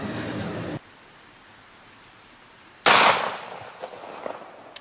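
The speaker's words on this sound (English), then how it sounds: "we'll shoot the regular jacket hollow point" A .380 pistol fires a single jacketed hollow point round into a flesh-and-bone test target: one sharp, loud report after a quiet gap, decaying quickly into a fading echo.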